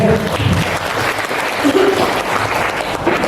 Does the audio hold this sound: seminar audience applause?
yes